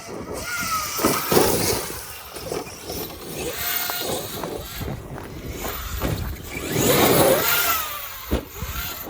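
An Arrma Kraton 8S RC car runs at full throttle outdoors, its motor whining and surging in loud waves with gravel and wheel noise, one strong burst near the end, and people talking nearby.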